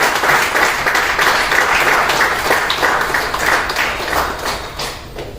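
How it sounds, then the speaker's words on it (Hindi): Loud, steady applause from a crowd welcoming a guest at a gathering, dense clapping holding for several seconds before thinning slightly toward the end. "मैं चाहूंगा जोरदार ताली में स्वागत करिएगा"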